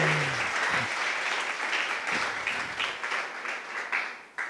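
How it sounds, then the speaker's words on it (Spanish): A church congregation bursts into applause during a sermon, a dense, steady wash of many hands clapping at moderate distance, with a brief voice at the start and cheers rising through it. "Denle un aplauso al Señor"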